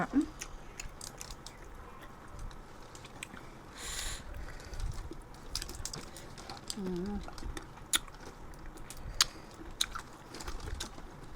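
Someone chews charcoal-grilled food close to the microphone, giving quiet, irregular crunchy bites and soft mouth clicks over low background noise.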